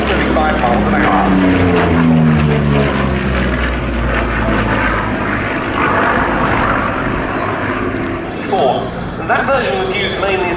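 Yakovlev Yak-3 and Yak-9 WWII fighters with Klimov piston engines fly at the Duxford Battle of Britain Airshow, a loud, steady propeller drone that shifts in pitch as they pass, under continuous spoken commentary.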